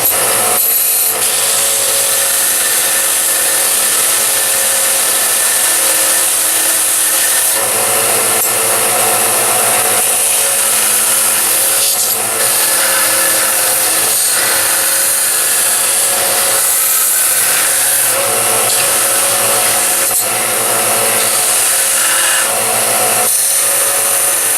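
Wooden bevel rubbed back and forth on wood sanding paper, a loud, continuous rasping scrape that runs unbroken for the whole stretch with no talking.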